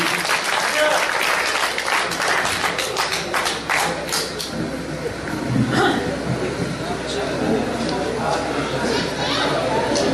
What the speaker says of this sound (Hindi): जोरदार ताली सब इस्तकबाल करें